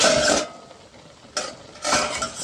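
Water is poured into a pot of boiling dal seasoned with salt and turmeric, giving three rushing, splashing bursts separated by brief quieter gaps, close and fairly loud.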